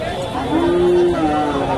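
A cow moos in a low, drawn-out tone amid the murmur and chatter of a busy crowd at a cattle market in Bogura, Bangladesh, where Friesian heifers are sold.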